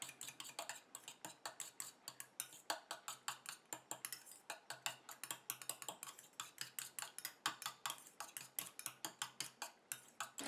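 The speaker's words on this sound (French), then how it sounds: "je mélange bien tout ça" A utensil stirs an oil mixture for a pre-shampoo treatment for dry scalps, making fast, irregular clicking and tapping against the container, close and fairly quiet, with no voices.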